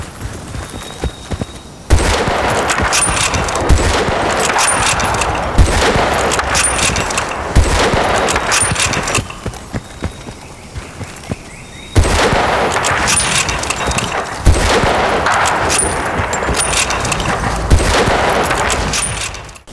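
Sniper rifle shots ring out in Battlefield: Bad Company 2 during no-scope jump shots, loud sharp cracks repeating in bursts with brief quieter gaps between them, no talking.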